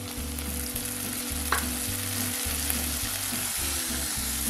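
Carrot, beans and green peas sautéing in oil for vermicelli kichadi produce a steady frying sizzle with occasional stirring taps, over a low, even background hum.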